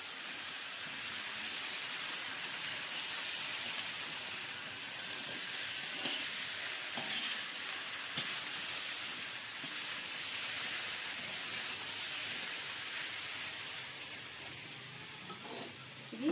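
Potatoes frying in a pan for aloo fry, a continuous bright sizzle with steady hiss and faint stirring scrapes, close and even for the whole stretch with no talking.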